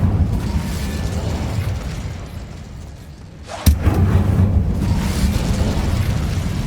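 A fire spell cast in the video game Hogwarts Legacy bursts out as one sharp blast partway through, cutting across a steady low rumble of game ambience and then leaving a slightly louder roar behind it.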